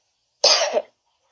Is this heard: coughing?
yes